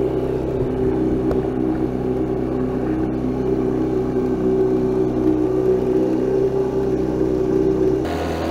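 A small outboard motor drones steadily on a homemade 7.5-foot boat out on the water, a loud continuous hum with no pauses that cuts off abruptly at the end.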